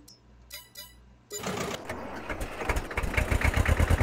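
In a video game, a Kramer KL tractor's engine cranks and catches after a second of quiet, then settles into a loud, steady, rumbling idle.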